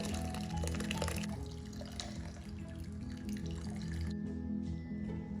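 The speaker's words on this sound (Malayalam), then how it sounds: "ഒരു തോർത്തോ കോട്ടൺ തുണിയോ വെച്ച് നമുക്കിതൊന്ന് അരിച്ചെടുക്കാം." Paneer whey pouring and dripping through cotton cloth, a steady trickle that thins out toward the end.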